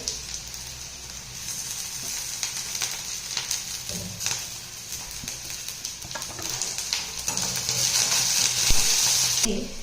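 Green chillies are added to onion gravy in a kadhai for masala methi matar bhaji, giving a steady close sizzle with stirring scrapes and occasional clinks, the frying hiss growing louder toward the end; no talking.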